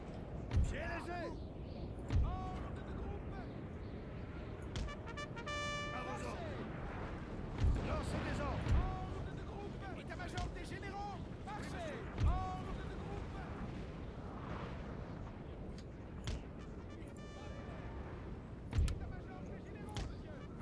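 Distant cannon fire booms out in scattered, irregular thuds during a Napoleon: Total War recreation of the Battle of Borodino, set against a busy battlefield din of musketry and crowd-like noise.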